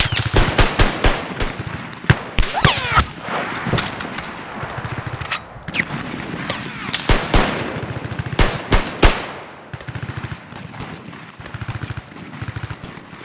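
Staged machine gun fire for a homemade war film comes in rapid, sharp bursts of cracking shots. The bursts stop and start and are mixed with louder single bangs, then the firing thins out toward the end.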